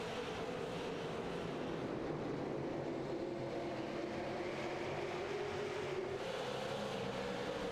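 Race car engines at a Southern National All Star Clash green-flag restart, a continuous loud roar of a pack accelerating together, engine tone rising slowly, with no voices over it.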